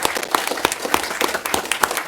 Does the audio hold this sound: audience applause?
yes